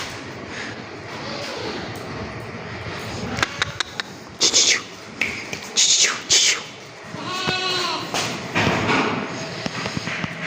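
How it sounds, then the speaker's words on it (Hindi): A goat being sold as a household pet bleats several times, loud and close, in short wavering calls between thuds and handling noises, with someone speaking in the background. "ये बकरी है भाई।"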